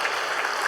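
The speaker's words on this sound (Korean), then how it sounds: "가족을 위해서 따뜻한 위로와 격려 박수 한번 보내주시기 바랍니다" A church congregation at a Sunday worship service applauds warmly for a bereaved evangelist's family, a dense, steady patter of many hands clapping together.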